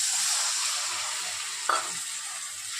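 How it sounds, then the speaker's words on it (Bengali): Morola fish and leafy greens sizzle steadily in a frying pan as water is poured in, with a brief stirring clatter near the end and no talk. "এখন বন্ধুরা মাছটা কষে গেছে, শাকের সঙ্গে এখন জলটা দিয়ে দিচ্ছি।"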